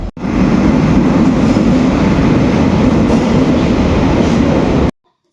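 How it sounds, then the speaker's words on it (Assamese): A passenger train rumbles along loudly from inside the carriage, a constant heavy roar with rhythmic wheel clatter that cuts off abruptly near the end. "এতিয়া আমি সকলোৱে ট্ৰেইনত বহি ল'লোঁ আৰু এতিয়া যাম আমি সকলোৱে ৰাস চাবলৈ।"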